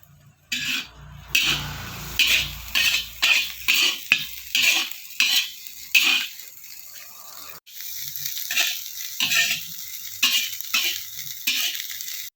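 A utensil scrapes and stirs fried rice with liver in a hot pan, making a run of rhythmic scraping strokes over a light sizzle, up close and loud.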